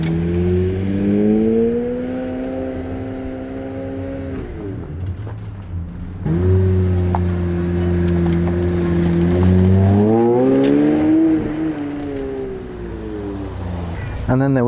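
Pagani Zonda 20th Anniversary supercar drives by, its engine droning loudly and steadily before easing off, then returning with a strong rising rev as it accelerates away outdoors.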